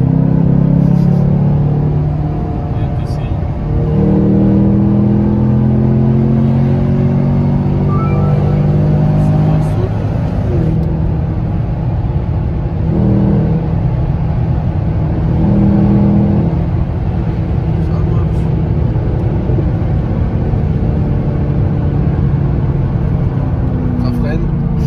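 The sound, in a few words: American car engine revving and accelerating, likely Mustang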